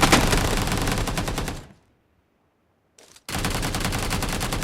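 Dense automatic gunfire in the mobile shooter PUBG Mobile during a team deathmatch, loud and continuous rapid bursts that cut out for about a second and a half, return with a brief burst, then resume at full intensity.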